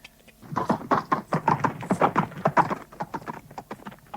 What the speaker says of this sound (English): he jumped straight into his carriage, whipped the horses and drove home